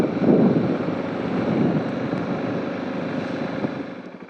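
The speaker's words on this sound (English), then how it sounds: "Quite windy today, a bit choppy on the water." Low, blustery wind on choppy water at Wineglass Bay buffets the microphone in a continuous roar, strongest at the start and easing slightly toward the end.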